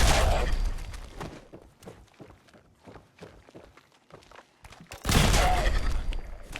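Gunfire in Fallout 4 erupts as loud, dense bursts at the start and again near the end, with quieter thuds and footstep-like steps in between.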